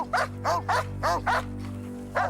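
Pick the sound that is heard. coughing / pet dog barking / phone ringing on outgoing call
pet dog barking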